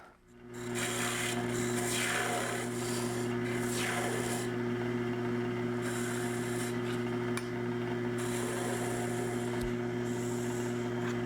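Wooden box blank turning on a lathe while a turning tool shapes it, a steady motor hum under a continuous scraping, rasping cut with slight sweeps, close and fairly loud, no talking.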